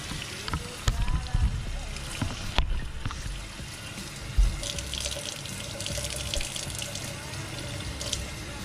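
Running water splashes and gushes steadily as a dirty high-flow air intake filter is rinsed under a tap, with a few brief knocks and a voice faintly in the background.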